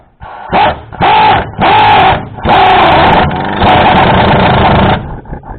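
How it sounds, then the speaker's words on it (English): A pneumatic air gun tightens loose control arm bolts on a car in a garage, with several short loud buzzing bursts followed by two longer sustained rattling runs, close up and without talk. "see if we can blast them down here with the air gun"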